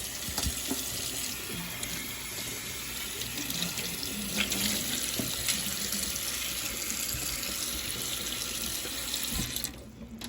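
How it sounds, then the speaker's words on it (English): Tap water runs steadily into a kitchen sink and drains away while dishes are cleaned up after a Christmas dinner, a continuous close hiss and splash that cuts off near the end. "Let that water drain out."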